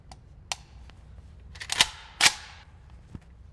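An AK-20 rifle fires subsonic ammunition at a shooting range, a few short, sharp, fairly quiet cracks in quick succession with small mechanical clicks around them.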